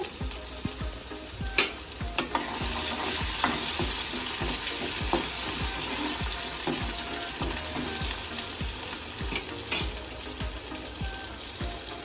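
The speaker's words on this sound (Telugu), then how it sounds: "ఇప్పుడు కాస్త ఆనియన్స్ వేసుకొని ఇవి కూడా మంచిగా వేగిన తర్వాత" Steady sizzling of onions frying in hot oil, with occasional clinks and scraping of a utensil stirring the pan, no voices.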